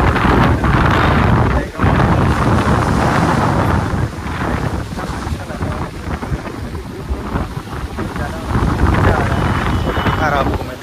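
Strong wind gusting across a microphone at the Marine Lines seafront in Mumbai, a loud, continuous roaring rumble that buffets and surges throughout without a break.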